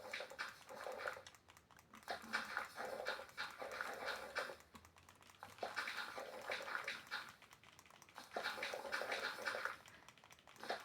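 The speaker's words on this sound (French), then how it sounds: "Quand nos chiens aboient, c'est pas pour rien." Dogs barking in the horror video game The Dweller, repeated bark bursts in several clusters over a steady noisy ambient bed, moderately loud with no talking.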